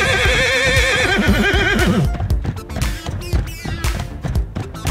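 Video game horses in GTA 5 whinny loudly with layered neighs, then a fast rhythmic clip-clop of hooves takes over. The sounds are close, busy and continuous, with no talking.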